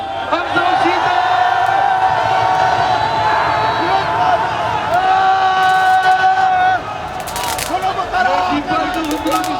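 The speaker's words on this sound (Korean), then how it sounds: "저희 분노의 함성 부탁드리겠습니다. 함성 시작." A large protest crowd raises a loud, sustained roar of angry shouting and cheering at a street demonstration against Trump during a state visit, with dense overlapping voices and whoops throughout.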